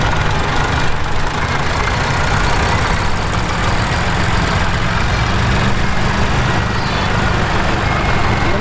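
A vintage Massey Ferguson 135 tractor's diesel engine idles steadily with a low, throbbing chug, loud and close, running continuously without pause at an agricultural show.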